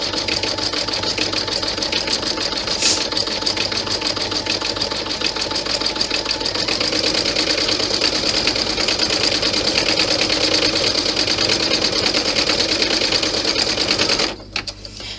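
An embroidery machine stitches a bag strap held in the hoop, its needle pounding in a rapid, steady mechanical rhythm up close for several seconds before stopping abruptly near the end.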